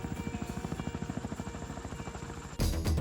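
A Chinook transport helicopter thuds with a rapid, even rotor beat over a steady engine whine, then a sudden louder burst of broadband rushing noise takes over at the end.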